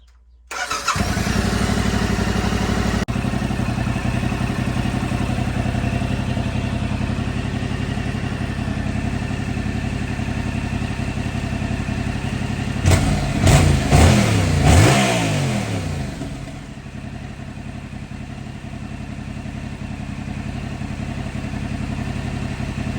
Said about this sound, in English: test with the stock exhaust here on the R7. So we'll start it up here.